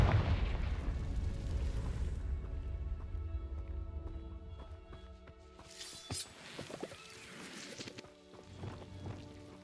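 The Confringo blasting spell goes off in the video game Hogwarts Legacy, a heavy rumbling blast fading over a couple of seconds, followed by a second sharp crackling burst with scattered debris-like pops.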